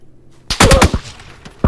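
Rapid bursts of video game gunfire in PUBG, loud and close, a quick volley of several shots followed by a sharper report at the end, with no talking over them.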